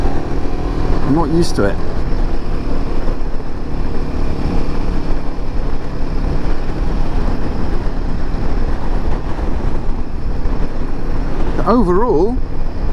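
A Royal Enfield Himalayan 450 motorcycle engine drones steadily while riding, blended with constant wind rush, and a rider speaks briefly over it.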